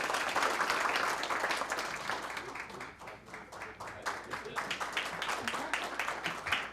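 Audience applause welcoming a speaker at a Seoul public forum on building a classical concert hall, a steady dense patter of many hands at moderate distance, easing slightly midway and then continuing.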